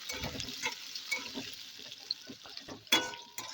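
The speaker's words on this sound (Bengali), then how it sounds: "দিয়ে ভালোভাবে হালকা করে একটু ভেজে নেব আলুগুলো" Sliced potatoes fry in a pan for a vegetarian bottle-gourd-leaf dish, giving a soft, faint sizzling hiss under repeated light clinks and scrapes as they are stirred.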